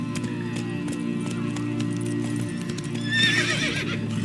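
Roach, the horse in The Witcher 3, gallops in rapid clip-clop hoofbeats, then gives a loud whinny near the end, with a voice briefly talking.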